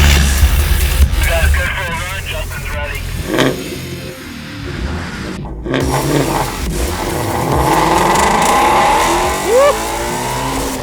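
A 2016 Ford Mustang with the 5.2-liter engine accelerating hard, revving up through gears in loud rising sweeps with brief shift dips, heard from inside with occasional voices over it.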